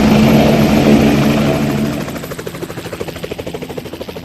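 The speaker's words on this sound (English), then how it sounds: "the helicopter sound is louder and closer too, right?" A helicopter roars loudly overhead, its heavy drone giving way to a clear rhythmic blade chop that keeps pulsing close by.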